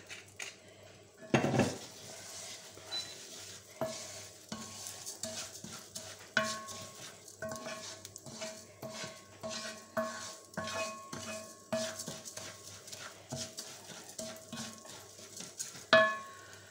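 Rice stirred with a utensil in a paella pan with olive oil, giving repeated scraping and knocking clatters in an irregular rhythm, close and fairly quiet, with a faint sizzle underneath.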